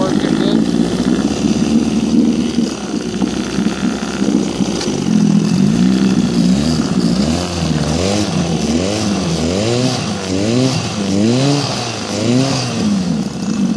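A 1965 Evinrude 9.5 outboard motor runs loudly and close, its engine note rising and falling in repeated surges as it is shifted and revved, with a voice speaking over it.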